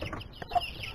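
Hens clucking in a coop with a speckled carijó hen and her brood: soft, faint scattered clucks and low chatter, fairly quiet and close, with no talking.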